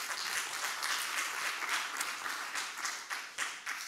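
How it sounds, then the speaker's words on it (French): A conference audience applauds in a sustained, even crackle of many hands clapping, fairly faint and distant-sounding, with slight swells and dips but no voices over it. "je voudrais qu'on l'applaudisse"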